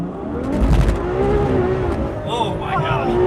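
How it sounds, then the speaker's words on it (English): Ferrari 812 Superfast launching hard in power start mode, a loud rising engine roar with revs climbing, brief tire chirp and excited voices over it. "When the car is on, power start is on, foot on the brake, throttle it,"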